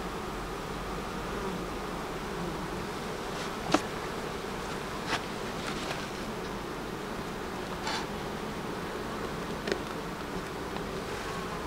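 A dense, continuous hum of many honeybees buzzing around a hive, soft and even, with a few faint clicks and taps scattered through.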